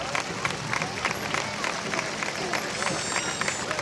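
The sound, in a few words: parade crowd applauding and cheering for veterans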